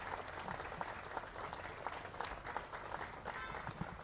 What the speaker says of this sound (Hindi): अस्पताल के सभी लोग आप देख सकते हैं ताली बजाकर शांतिबाई का सम्मान कर रहे हैं